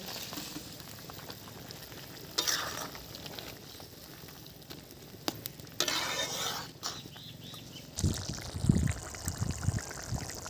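Mourola fish and green chillies go into a simmering curry, giving a low steady bubbling with a few splashes and clatters as the pieces drop into the pot.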